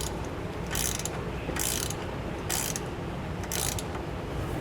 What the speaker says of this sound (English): now we'll just go back and tighten down our shock bolts